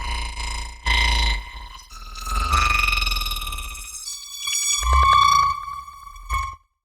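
Granular sample played in Ableton Simpler with its start position swept by an LFO, producing shifting, glitchy tonal fragments that jump between pitches and textures, swelling and cutting off abruptly, with no voices.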